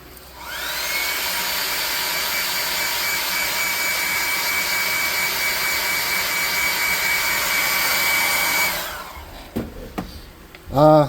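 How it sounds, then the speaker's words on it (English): A hair dryer blows steadily at close range for about nine seconds, a loud even whoosh with a high whine, then switches off, leaving a few brief clatters. "I'm going to hit it with a hairdryer again."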